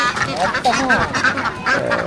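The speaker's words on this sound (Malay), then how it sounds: "Banyak itik." Ducks at a mini zoo in Port Dickson, Malaysia, quacking and honking repeatedly and fairly close, with the calls overlapping into a busy chorus throughout.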